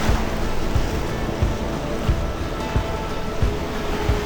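Ocean waves and surf wash in steadily while someone wades into the sea, a broad continuous roar with light wind and periodic low thumps.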